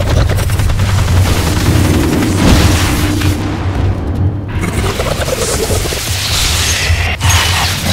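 Dense, continuous gunfire in the video game Evolve during Kraken gameplay, loud and close, a steady rattling barrage with booming impacts running almost unbroken for several seconds and a brief dip midway.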